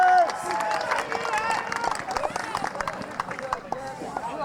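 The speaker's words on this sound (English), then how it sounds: "A big round of applause for Allie Bowers." A crowd in a gym at a high school homecoming pep rally cheers and claps, dense applause mixed with shouting and chatter, loud and close throughout.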